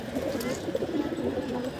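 Female pigeons at a rooftop loft coo steadily while bathing, a low, continuous throaty murmur from several birds close by, with faint rustling above it.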